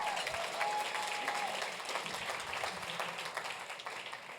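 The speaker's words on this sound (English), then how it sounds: "You should applaud him" Steady, fairly quiet audience applause from a theatre crowd at a comedic lecture, continuous clapping with no talk over it.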